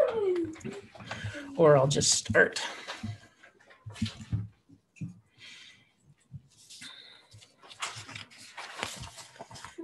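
Dogs come inside a home just before a Christmas-season morning prayer, giving brief whimpers and shuffling noises close by, mixed in with a person talking.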